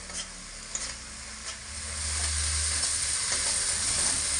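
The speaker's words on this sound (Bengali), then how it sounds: "এবার এইভাবে অনবরত নাড়াচাড়া করে মশলাটা খুব সুন্দরভাবে পাক করে নেব" Spice masala for cumin potatoes sizzles steadily in hot oil over raised heat while being stirred nonstop, the frying hiss growing fuller and louder toward the end with light scraping strokes, no voices.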